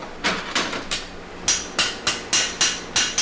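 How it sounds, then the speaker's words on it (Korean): Blacksmith striking a red-hot lump of iron while cutting it to shape for a hand-forged knife: about nine sharp, ringing metallic blows at an even rhythm, loud and close, with no voices. "달궈진 쇳덩어리를 눈대중만으로 잘라냅니다."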